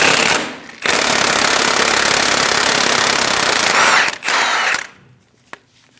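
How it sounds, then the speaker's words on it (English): A 35mm socket on a power tool spins off the front axle nut of a 2001-2006 Chevrolet Silverado 2500 HD, a loud continuous rattling whir lasting about four seconds with a brief dip, then stopping. "Using a 35mm socket, remove the axle nut."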